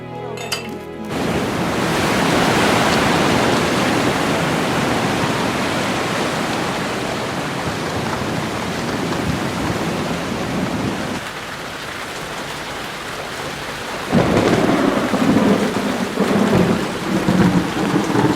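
Heavy rain pours down in a thunderstorm in Nigeria, a dense continuous hiss of drops on surfaces with low thunder rumbling, a brief lull midway and then a renewed burst of downpour, no voices.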